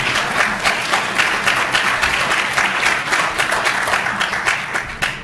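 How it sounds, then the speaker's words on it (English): An audience at a university evening event breaks into steady applause, a continuous wash of clapping from many hands heard clearly throughout. "That's where I wait for applause."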